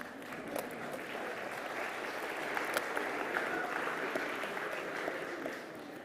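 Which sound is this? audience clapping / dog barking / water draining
audience clapping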